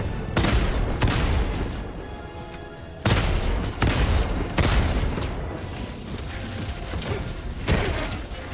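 Loud gunfire and heavy booms in Helldivers 2 during a solo fight against Automaton robots, arriving in forceful bursts about every few seconds with mechanical clatter between them and no voices.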